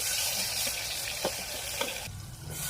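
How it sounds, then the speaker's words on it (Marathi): Tomatoes sizzle and fry in a pan as a spoon stirs them, with a steady crackle and a few soft scrapes, close and alone. "आता थोडं हलवून घेतो टमाटर"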